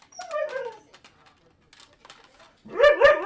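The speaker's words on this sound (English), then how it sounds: "I'm sorry for my dog barking." A dog barks indoors: a sharp bark at the start, a quiet gap with faint small noises, then two or three louder close barks at the end.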